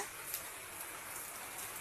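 Light, drizzly rain falls steadily over rice fields, a soft continuous hiss with a few faint drop taps, fairly quiet and with no voices.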